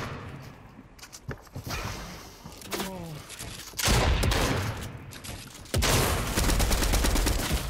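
Rapid SMG gunfire in Fortnite crackles in bursts, scattered shots early then heavy sustained volleys, loud and close, with a voice briefly talking over the action.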